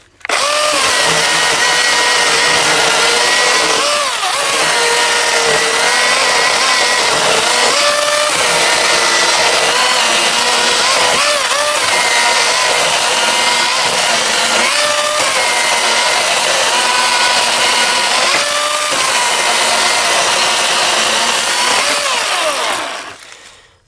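Milwaukee M18 FUEL brushless cordless chainsaw with a sharp chain cutting through a treated pine round, a loud sustained high-pitched whine that bogs and recovers in cycles for about twenty seconds before cutting off, with no talking.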